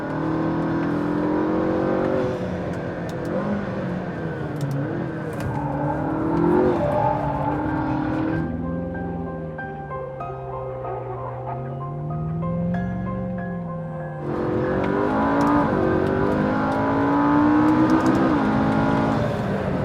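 A McLaren 650S accelerates hard on a race track, the engine climbing through the revs in repeated rising pulls with gear changes, loud and close from the cabin, with a softer steady stretch in the middle.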